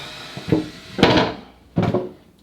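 Rail coming off a OneWheel GT, three hollow knocks and clunks of hard parts handled close by at a loose, uneven pace.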